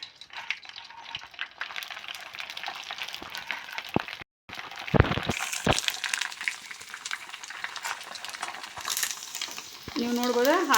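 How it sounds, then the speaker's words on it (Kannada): Shandige rice crisps made from ration rice dropped one by one into hot oil, a steady close sizzle with sharp crackles and pops as each piece hits the oil, briefly cutting out before the frying noise resumes louder. "ಇದು ಕರಿಯೋದು ಭಾಳ ಈಸಿ, 2 ನಿಮಿಷದಾಗ ರೆಡಿ ಆಗ್ಬಿಡ್ತಾವೆ"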